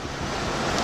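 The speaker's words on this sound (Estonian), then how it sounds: "Laine lõi peale praegu." A sea wave slaps against a racing boat during a boat race in Thailand, a loud, broad rush of water and wind noise that fills the short moment with no talk.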